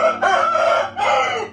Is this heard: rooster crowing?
yes